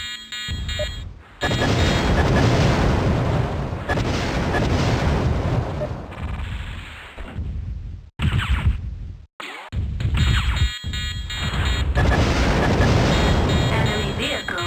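Explosions from an enemy mech being destroyed in MechWarrior 2: loud booming blasts and rumbling bursts in several waves with brief silent gaps, alongside a synthetic voice making announcements.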